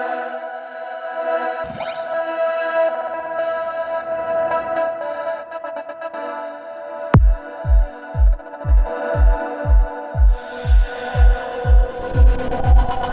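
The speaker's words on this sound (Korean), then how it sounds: "인트로에 보시면 묘한 패드 계열의 신스가 나오는데요." A sustained, shimmering synth pad plays alone, then a steady run of deep kick-drum thumps pulses beneath it for the second half.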